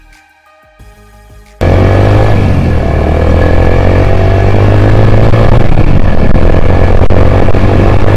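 Yamaha YBR-Z 2018 motorcycle engine starts after a quiet moment, then runs loud and steady with rising revs as the bike pulls away on a test ride, a close, continuous drone.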